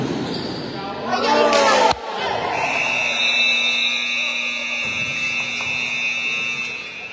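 A game-ending buzzer at a CIBA basketball game, a long sustained electronic tone that follows a bouncing ball and crowd noise, with people talking and shouting throughout.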